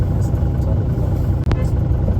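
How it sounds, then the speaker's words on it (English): A car rumbles steadily along a mountain road toward Supi Valley in Uttarakhand, a constant low engine and road drone heard from inside the vehicle. "We are driving to Supi Valley."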